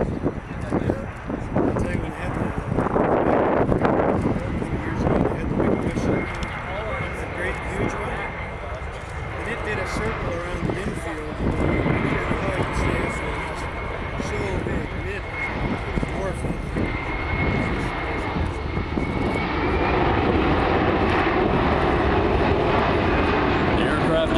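A C-17 military transport aircraft makes a slow speed pass, its loud jet engine roar rising and falling over about twenty-four seconds with wind buffeting on the microphone.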